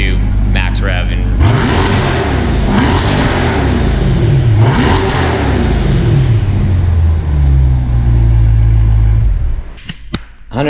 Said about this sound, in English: Now we will do the rev again, see what we get up to max rev